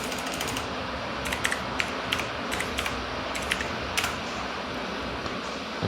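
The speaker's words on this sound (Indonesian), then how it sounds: "Kemudian kita ketik password lagi." Fingers type a password on a computer keyboard, a fast patter of light key clicks over a constant background hum, close by and with no voices.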